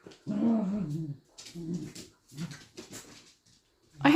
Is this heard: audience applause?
no